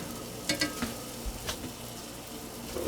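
Monte Cristo sandwiches frying in butter in a pan, a soft continuous sizzle broken by a few clattering knocks and scrapes as they are turned, close and fairly quiet with nobody speaking.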